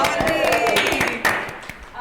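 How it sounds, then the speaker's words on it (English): Convention audience at a queer parenting panel clapping in congratulation, a close, sharp patter of hands that runs under cheerful chatter and fades toward the end. "so they're applauding because I'm pregnant"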